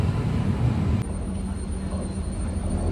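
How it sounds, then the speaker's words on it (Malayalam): A diesel-locomotive Mangalore–Subrahmanya Road passenger train rumbling past nearby, a steady low engine drone and rolling noise, with a faint high whine. "ഡീസൽ ലോക്ക് ഇതാണ് Mangalapuram Subrahmanyam road station passenger train."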